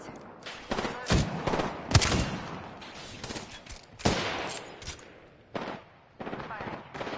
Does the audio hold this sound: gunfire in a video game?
yes